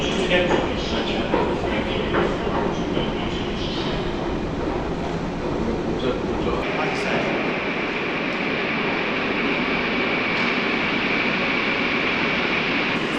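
A Seoul metro train rumbles loudly at a station, its heavy, broad roar shifting partway through into a steadier, higher hum as it moves, with voices faintly underneath.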